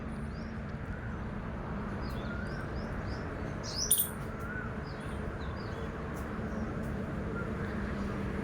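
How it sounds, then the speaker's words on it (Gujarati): Scattered small bird chirps, faint and a little distant, over a steady low background rumble, with one brief louder call partway through. "અને પક્ષીઓ પણ બોલે છે"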